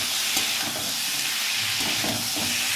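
Spiced rohu fish curry with turnip is sautéed and stirred in a pan, giving a steady hissing sizzle with soft scraping stir sounds throughout.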